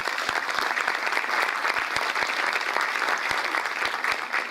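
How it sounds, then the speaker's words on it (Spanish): Welcoming applause in an auditorium as guests arrive for a literary studies symposium, an even, continuous clatter of many clapping hands with a few sharper claps standing out, no voices over it. "Un saludo y un aplauso para ellos de recibimiento"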